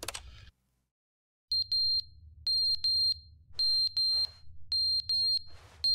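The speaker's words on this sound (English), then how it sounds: "change the batteries on your smoke alarm" A smoke alarm with a low battery chirps in the video game The Stanley Parable, giving a rapid series of sharp, high beeps in clusters over a low hum, after a brief silence.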